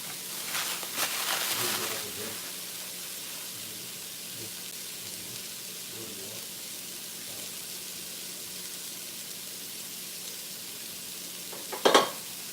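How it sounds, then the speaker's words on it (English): Onions sautéing in a pan during a cooking show, giving a soft steady sizzle with a few stirring scrapes and a sharp clatter near the end. "Continue to let those onions saute a little bit."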